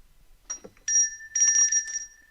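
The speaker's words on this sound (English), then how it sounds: "I guess that's the turn the page bell." A turn-the-page bell sound effect on a podcast, a bright ringing bell tone struck a few times in quick succession, clear and isolated with no talk over it.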